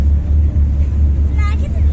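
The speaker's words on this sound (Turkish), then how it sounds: "Bak Esile şimdi vapur hareket ediyor. Motor sesini duydun mu şimdi?" A passenger ferry's engine on the Istanbul Bosphorus runs as a loud, steady low rumble close by, with a person talking over it.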